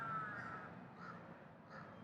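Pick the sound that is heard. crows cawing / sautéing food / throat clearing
crows cawing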